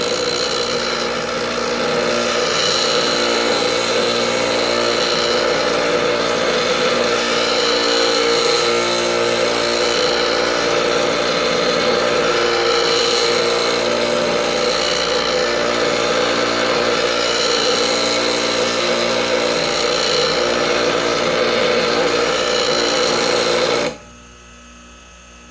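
A lathe gouge is ground on a bench grinder, rotated against the wheel in a steady continuous whine and hum that runs for about twenty-four seconds and then cuts off abruptly.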